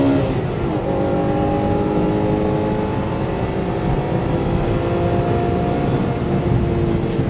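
Honda Integra Type R DC2 with its B18C6 engine held at sustained high revs, a steady loud engine drone with rising harmonic tones over about seven seconds, no talk.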